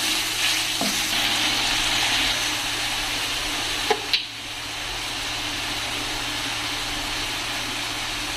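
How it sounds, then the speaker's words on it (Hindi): Chopped garlic and a ginger-garlic cube fry in a pan with a steady, loud hiss of hot oil that runs throughout, broken by two quick knocks of a spoon on the pan midway. "और यहाँ पर जो है वो मैं गार्लिक को फ्राई कर रही हूँ। जिंजर गार्लिक की जो है ना एक क्यूब मैंने डाली है"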